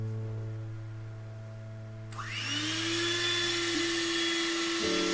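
An electric mixer switches on and whirs steadily at high speed as it beats sponge cake batter with flour, a close continuous motor whine over a low background hum.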